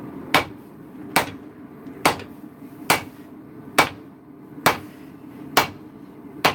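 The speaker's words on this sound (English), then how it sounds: "Got some metal stuck together. Hammering it out now." Forge-welded metal on a forge floor takes eight evenly spaced hammer blows, each a sharp ringing strike about a second apart over a low steady background hum.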